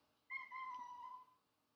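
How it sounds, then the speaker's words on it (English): A pet cat gives a short, high, tonal vocal yawn, close and quiet against near silence, lasting about a second. "That was my cat. She just yawned."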